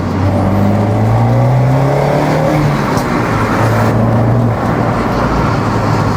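An Abarth car engine in sport mode revs loudly and close, pitch climbing and dropping as it accelerates, with a throaty roar filling the whole stretch.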